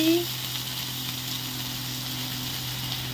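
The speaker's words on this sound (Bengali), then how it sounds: "পেঁয়াজ নিয়েছিলাম, সেগুলো ঢেলে দিচ্ছি" Chopped onions tipped into hot oil, a steady broadband sizzle holding evenly throughout after a brief clatter at the start, fairly close.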